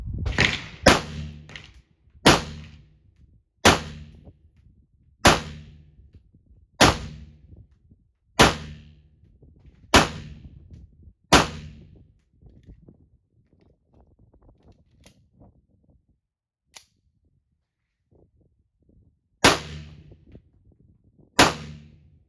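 Mild 115-grain 9mm reload rounds fired from a pistol at an outdoor range: about a dozen sharp, loud shots at a steady pace of roughly one every 1.5 seconds, a quiet gap, then two more reports near the end.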